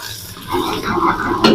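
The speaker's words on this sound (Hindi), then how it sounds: "इसमें हम शामिल कर देंगे लहसुन अदरक का पेस्ट और इसको भी फ्राई कर लेंगे।" Garlic ginger paste frying with onions and whole spices in a pot for a Degi aloo gosht, giving a steady close sizzle with stirring scrapes that swell after a quiet start and a brief clatter near the end.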